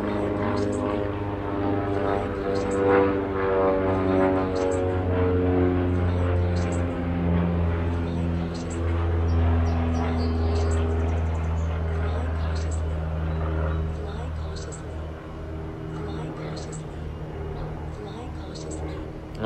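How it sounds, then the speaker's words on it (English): A propeller airplane passes overhead beside a pond, a steady low droning hum that swells and holds for most of the stretch before slowly easing as it departs. "Let's wait until this airplane passes,"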